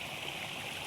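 Water runs in a small rain-fed stream, a brief steady rushing wash heard close by with no break.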